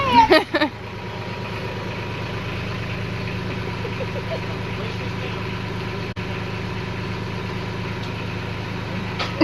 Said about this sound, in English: You're driving the tractor!